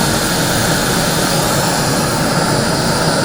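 A Fire Maple Star X5 integrated gas cooking system burner running at full power, giving a steady, loud, close roaring hiss that holds without a break.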